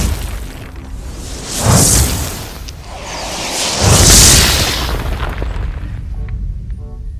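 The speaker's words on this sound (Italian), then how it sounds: "Meteoriti che cadono dall'alto" Meteors plunge from the sky and detonate in Fortnite Save the World: two heavy, booming impacts with a rushing whoosh around them, the first fairly short and the second bigger and longer, over a continuous rumbling background with no voices.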